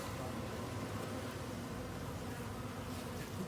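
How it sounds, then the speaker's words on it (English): Honey bees swarm and buzz around a hive as a package is installed and a queen cage hangs among them, giving a steady, soft, continuous hum with no voices. "you can see the bees are flying everywhere"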